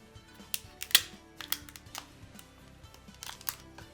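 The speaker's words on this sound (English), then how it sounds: "We're going to cut it down the soft side of the belly with scissors" Kitchen scissors snip down the soft belly side of a rock lobster tail shell, giving a close, dry run of sharp clicks and crunches spread over a few seconds.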